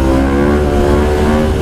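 A KTM 500 EXC supermoto fitted with an FMF Factory 4.1 RCT exhaust holds a loud, close, steady engine note with a strong harmonic drone during a brief rev.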